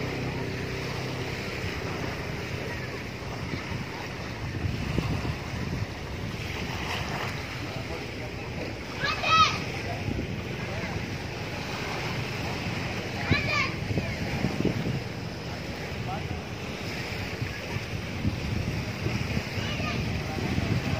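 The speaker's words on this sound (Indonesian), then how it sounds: "Di sana banyak anak-anak kecil yang lagi berenang." Gentle waves washing on a beach where children swim, with steady wind buffeting the microphone and a person talking throughout.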